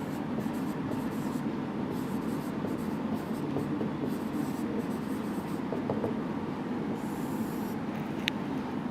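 Continuous pen or marker scratching as an accounting example is written out, steady and fairly loud for several seconds, over a constant low rumble.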